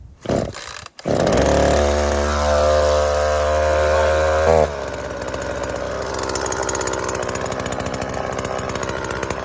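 An Oleo-Mac GSH 40 petrol chainsaw, started with the chain brake on, revs up loud and steady for a few seconds, then drops to a rough, rapidly chugging idle that keeps running close by.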